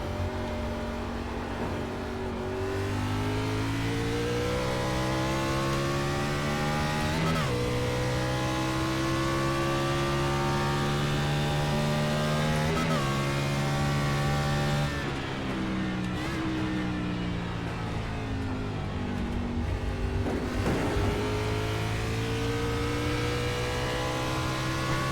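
A NASCAR race car laps the Charlotte Roval road course in iRacing, its engine revving high and dropping sharply several times as it brakes and accelerates through corners, a continuous loud sim engine with no talk.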